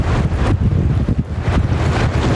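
Strong wind buffets the microphone outdoors, a continuous low roar with gusty swells throughout, loud and close, with no talk.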